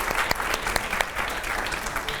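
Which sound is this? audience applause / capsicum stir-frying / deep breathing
audience applause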